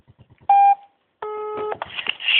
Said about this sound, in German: Ich rufe jetzt an und mache einen Lautsprecher.